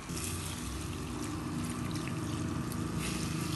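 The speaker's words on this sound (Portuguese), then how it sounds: "vou botar aqui mais ou menos uns 2 copos de água" Water pouring into a cooking pot as moqueca is being made, a steady, continuous splashing stream about two cups' worth, close and even, with no talking.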